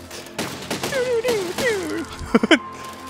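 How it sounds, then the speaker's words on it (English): Cannons firing in the Besiege building game, with a few sharp blasts clustered near the end amid excited talking. "Fires the cannons!"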